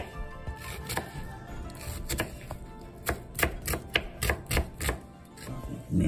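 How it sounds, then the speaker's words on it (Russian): A knife finely chopping onion taps rapidly against a cutting board in quick bursts of crisp chops, close by and fairly quiet, with brief pauses between runs. "Теперь мелко режем лук"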